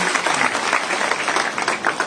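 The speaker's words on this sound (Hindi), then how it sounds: "जोरदार ताली बजा करके इनका स्वागत करिए" Steady, loud applause from a crowd at a political party rally in Shivpur, Varanasi, welcoming a party member, filling the whole moment with dense clapping and no clear talk.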